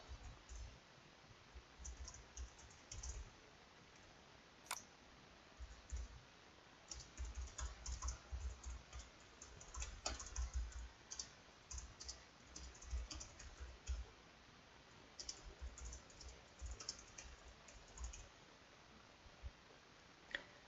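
Very quiet, close typing on a computer keyboard, heard as irregular bursts of soft key clicks with short pauses, while a name and description are entered. No one speaks.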